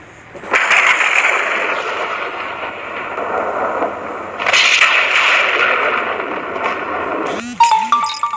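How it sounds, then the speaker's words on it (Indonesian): Thunder effect laid into a video intro: a loud rolling rumble with cracking bursts that swells, eases and surges again, closing in a few sharp hits. "masukin efek musiknya dengan memakai suara petir"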